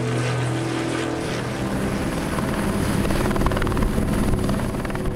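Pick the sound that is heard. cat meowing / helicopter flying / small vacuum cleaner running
helicopter flying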